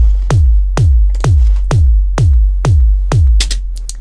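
An EDM kick drum plays alone, seven even thumps roughly half a second apart. Each hit is loud and booming with a long decaying low tail that runs into the next.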